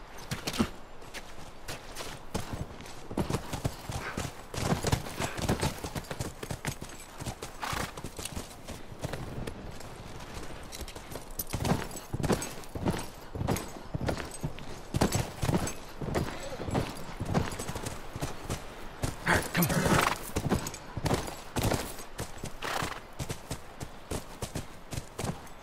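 Continuous quick clatter of hooves, several horses moving at a brisk trot, fairly loud and close throughout, in the video game The Last of Us Remastered.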